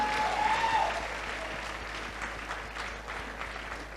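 Church congregation clapping loudly together, a dense steady applause filling the room, with a brief tonal sound early on.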